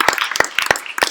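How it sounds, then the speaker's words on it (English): An audience at a tech meetup claps, with a handful of sharp separate hand claps spaced unevenly over a second, close and fairly loud, with no voices. "I would like to get you to applaud more for Digital Garage"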